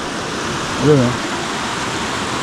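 Cold river water from Mount Bulusan rushes along the Kipot River in Sorsogon, a steady broadband roar of flowing current heard close and constant, with a brief voice rising over it midway.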